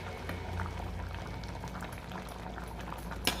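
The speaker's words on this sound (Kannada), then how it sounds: "ಈಗ ನೋಡಿ, ಹಸಿಟ್ಟು ಹಾಕ್ಬಿಟ್ಟು ಒಂದು 2 ನಿಮಿಷ ಬೇಯಕ್ಕೆ ಬಿಡೋಣ." Ragi porridge thickened with flour bubbling in a pot, a soft continuous boil with small pops and a faint low hum, close by, and a brief sharp knock near the end.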